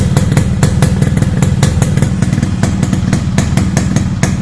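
A 1986-87 Yamaha RX100 two-stroke motorcycle engine fires in a rapid, crackling staccato, loud and close, with uneven popping beats over a low rumble.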